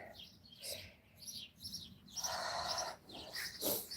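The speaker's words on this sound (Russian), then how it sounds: "Вам слышно, как птицы шумят?" Birds twittering at sunset in a garden beside currant bushes and roses, a series of short, faint chirps and calls scattered over a quiet outdoor background, with no talking.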